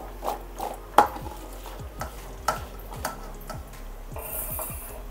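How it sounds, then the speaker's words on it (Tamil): Usili curry ingredients are mixed by hand in a bowl, giving a quiet, close run of rhythmic scraping and tapping strokes at an even pace. "நல்லா இப்படியே மிக்ஸ் பண்ணிக்கலாம்."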